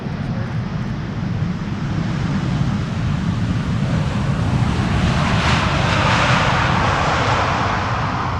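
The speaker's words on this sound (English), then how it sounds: "It is a 787-10 Dreamliner, 9 hours and 11 minutes on the way." A KLM Boeing 787-10 Dreamliner, registration PH-BKL, on approach to runway 18R at Amsterdam Schiphol, its engines a steady, loud broadband roar that swells slightly as it nears, with no talk over it.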